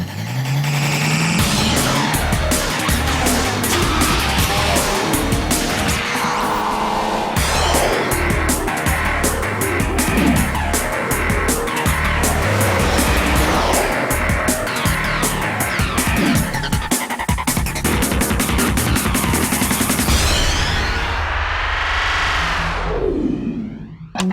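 Stunt car on the Fast and Furious 2 set roars and revs continuously, loud and close, with repeated tire squeals and skidding slides, ending in a long whining tire screech as it passes.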